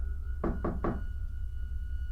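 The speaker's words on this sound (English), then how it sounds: "I raised my hand and knocked on the door." Three quick, firm knocks land on a door in close succession, heard up close against a quiet, low background hum.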